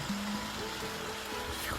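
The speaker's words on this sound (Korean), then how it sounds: "위치도 잘 잡아가지고 폭포가 떨어지게 해놨는데 소리가 좋죠." A garden waterfall gives off a steady, even rush of falling water, continuous and fairly close, with no pauses.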